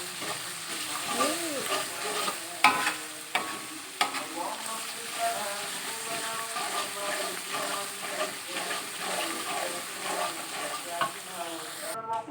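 Grouper fish stir-fried in spices Aceh-style, with steady close sizzling and hissing in the pan, broken by occasional sharp spatula clanks and stirring scrapes.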